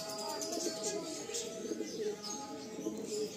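Pigeons coo in a loft of flying pigeons for sale in Garia, Kolkata, with low throaty cooing running steadily under a bright, busy background of chirps and ambient noise, while a voice talks nearby.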